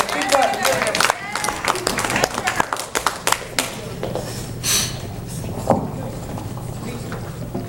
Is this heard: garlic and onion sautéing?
no